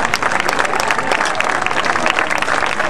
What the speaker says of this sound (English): How about a big round of applause for Stewiake?